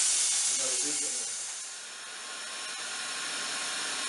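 Steam hisses steadily from a 40-foot steamboat's steam engine as its throttle is cracked open on first steam-up with drain cocks open, a broad continuous hiss that dips briefly then holds, with a faint voice underneath.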